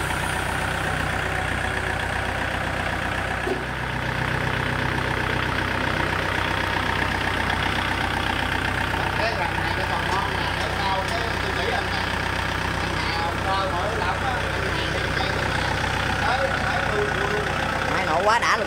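A Kubota 4508DI tractor's diesel engine runs steadily at idle throughout, a continuous low rumble with people talking over it in the foreground.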